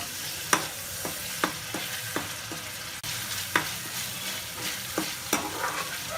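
Masala spices for a mushroom and peas curry fry in oil with onion over low heat, giving a soft steady sizzle broken by regular spatula taps and scrapes against the pan.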